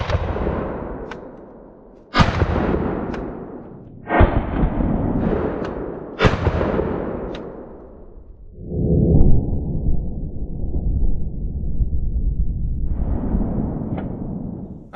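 A Fostech Origin 12 shotgun without its muzzle brake fires number 9 BioAmmo, four sharp, loud blasts spaced about two seconds apart, each echoing off, followed by rumbling noise and a faint voice.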